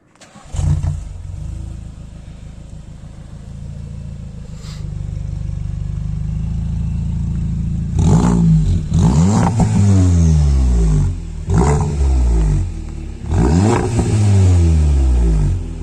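A tuned Volkswagen Golf 7 GTI engine (stage 1, 320 hp, stock air filter) starts and idles steadily, then revs up sharply several times in loud bursts, each rising and falling back to idle, close by.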